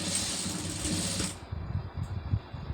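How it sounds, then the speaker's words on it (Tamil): A sewing machine stitches through folded cloth with a close, buzzing mechanical run that stops abruptly partway through, leaving a few faint knocks and handling sounds. "இதை கரெக்டாக தையல் ஓட்டிக்கிறேங்க"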